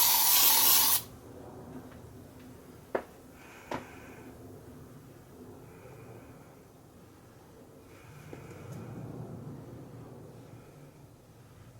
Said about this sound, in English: I've got some air freshener anyway, and basically I'll spray this and see if I can smell that.